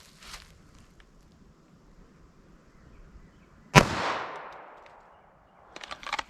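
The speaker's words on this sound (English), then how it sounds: "Let's see how our 22 long rifle does." A single sharp crack of a .22 LR pistol fired into ballistic gel backed by fiberboard, close and sudden, with a short fading ring after it and faint handling noises before and after.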